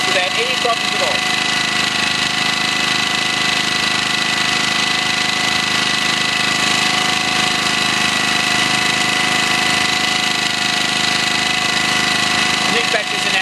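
A portable generator runs steadily throughout, a continuous loud engine drone with a mid-range hum and harmonic tones, holding an even level with no breaks.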